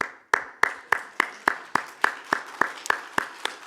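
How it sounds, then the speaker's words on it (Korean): Applause of congratulation during a Sunday church service comes through as a single person's steady claps, about a dozen sharp evenly spaced claps, moderately loud and dry, with no voices over them. "그분들에게는 제가 축하의 박수를 드리겠습니다"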